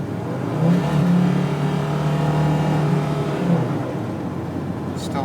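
A Mercedes-Benz 300D turbo diesel pulls away with a low, rough engine drone that rises through a shift and then eases off as it settles to a cruise. Steady road noise is heard from inside the car.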